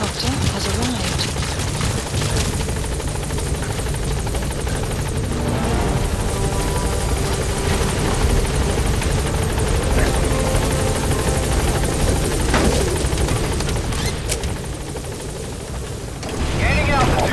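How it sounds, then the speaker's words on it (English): A support helicopter arriving in Metal Gear Solid V: The Phantom Pain, its rotor thrumming loud and steady throughout, with a voice speaking over the heavy whirring drone. "Support helicopter has arrived."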